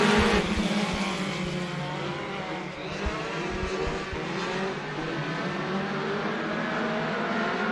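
Compact race cars roar off the green flag at Bakersfield Speedway, a loud, dense wall of engines revving hard together, sustained and close with no talk over it.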